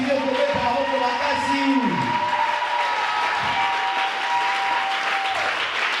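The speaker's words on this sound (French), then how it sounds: "Et si tu crois, tu vas acclamer très fort." A church congregation at a Sunday thanksgiving service claps and cheers loudly and continuously, with shouting voices mixed into the steady applause.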